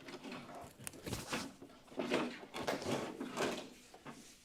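The hose garage compartment on a Festool CTM MIDI M Class dust extractor is opened by hand, giving a series of close plastic clicks, scrapes and rattles with a sliding, latching quality. No one speaks.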